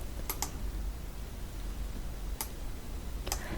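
Computer keyboard and mouse clicks during work in Photoshop: a few sparse, crisp clicks spaced over a few seconds against a low background hum, with no talking.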